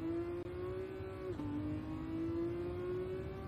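A Ferrari's engine in Gran Turismo 7 drones steadily under acceleration, a sustained tonal whine that dips briefly as it shifts, then climbs again, heard alone at moderate volume.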